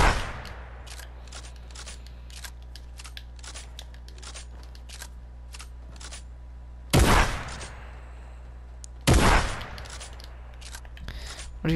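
A shotgun in a video game fires rapidly: a steady patter of sharp mechanical clicks is broken by two loud, close blasts about two seconds apart.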